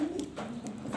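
Domestic pigeons cooing close by, a steady low murmuring coo lasting about a second with a few soft rustles, indoors among a breeder's birds.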